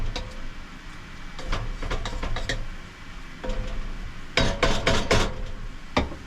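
A spoon scrapes and clinks against a metal pot in repeated bursts while stirring fish at a boat campsite, over a steady background fan hum.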